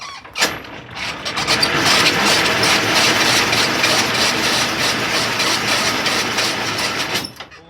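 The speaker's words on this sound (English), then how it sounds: "Pull it out to engage the gear, wind it up." Hand crank winding up the landing legs of an articulated lorry trailer, a steady loud grinding, clattering gear rattle with metallic squeal running continuously for several seconds before stopping.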